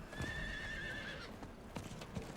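A horse in a Diablo IV game lets out a clear, high whinny, followed by a few clip-clopping hoofbeats near at hand, with no one speaking.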